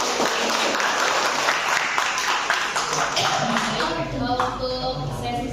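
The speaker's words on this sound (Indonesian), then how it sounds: "Mungkin kita beri tepuk tangan dulu buat materi." A seminar audience at a stock-market discussion session claps for the presenter's material in loud, close applause that thins toward the end. A voice and some shuffling come through underneath.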